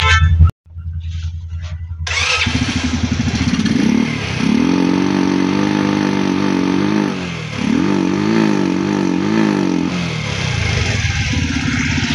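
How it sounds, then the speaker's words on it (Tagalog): A second-hand motorcycle with a misfiring engine is cranked and starts, then idles roughly for several seconds with uneven revs that dip and surge, a mid-pitched motor heard close with clattering tones. "So ang issue ng motor ni boss, linabas dun sa kasa, second hand lang daw, palyado"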